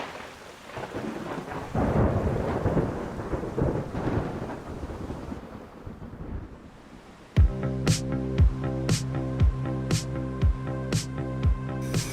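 Rain pours through the night on an open shelter with no roof, with heavy rolling thunder early on, then steady loud rain with sharp repeated crackles of close lightning strikes.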